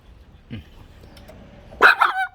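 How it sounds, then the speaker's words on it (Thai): A French bulldog eating blanched young kale lets out a sharp, loud bark with a yelping tail, preceded by a faint low grunt and soft indoor background noise. "อย่าเห่า"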